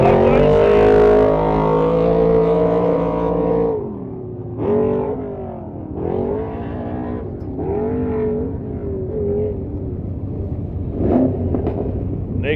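A 6-litre Skyzer Brothers trophy truck launches off the start line on Loveday sand, its loud engine roaring and then revving up in repeated rising surges that fade into the distance, with no talking.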